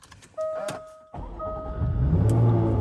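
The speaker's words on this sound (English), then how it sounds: "fire up the V6, which of course is on the push button here" Jaguar F-Type V6 started by push button: a chime tone and soft whirring, then the engine cranks and catches with a sudden burst, settling into a rising, steady idle heard close from the cabin.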